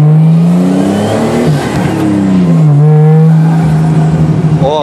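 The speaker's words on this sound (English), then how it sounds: "Oh, that blow-off, though, sounds like a Supra." A Nissan 240 with an RB20 engine swap revs hard with a loud, close turbo whine that rises and falls, while the blow-off valve vents sharply and tires chirp briefly.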